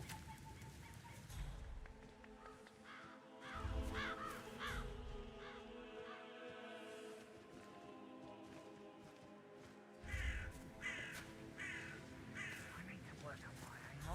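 Crows cawing in the Hitman 3 video game, a few harsh calls in separate bursts against a steady game background, with someone talking over much of it.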